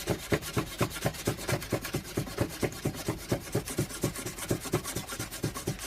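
Steady, rhythmic scraping of sandpaper rubbed back and forth over paint, a fast, even series of rasping strokes close by with no talking.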